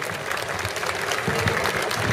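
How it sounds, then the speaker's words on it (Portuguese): Steady, dense applause from an audience at a São João street-march festival in Vila da Povoação, loud and continuous throughout with no talk over it. "uma sala de palmas bem forte para eles"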